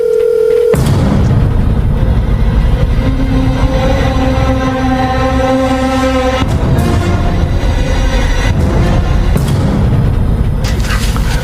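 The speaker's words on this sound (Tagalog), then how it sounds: "Ring lang din ng ring ang cellphone." A cellphone rings on and off without being answered, tones repeating in bursts with brief gaps over a loud, steady background.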